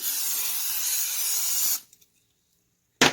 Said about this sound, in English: we're going to spray our skillet with cooking spray